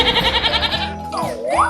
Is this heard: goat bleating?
yes